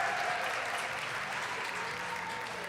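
Audience applause at a jigsaw puzzle competition, a steady wash of clapping that holds at an even level throughout, with no voices over it.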